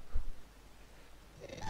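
Purring from a cat in the Minecraft video game, a soft low rumble with brief bursts at the start and end and a quiet stretch between, no talking.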